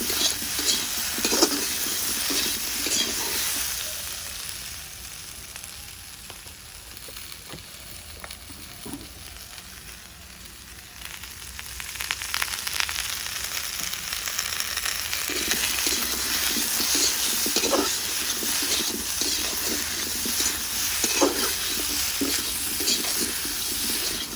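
A spice paste with tomato fries for boal fish curry, a long steady sizzle with scattered spoon scrapes and stirring clinks, dipping quieter partway through before swelling again.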